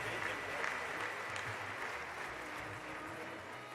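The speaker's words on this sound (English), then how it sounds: "Let us give her one more round of applause for joining our festivities today." Sustained audience applause for a guest at a birthday celebration, a steady dense wash of many hands clapping at moderate level throughout, with no voices over it.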